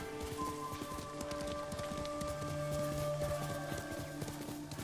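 Horse hooves clip-clop steadily in the video game Ghost of Tsushima, a regular trotting beat set against sustained musical tones and ambient game sound, moderately loud with no voices.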